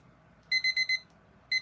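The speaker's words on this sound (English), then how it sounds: "that sounded like a beep to me" A quick run of four high electronic beeps, then a pause and two more beeps, crisp and close against a quiet background.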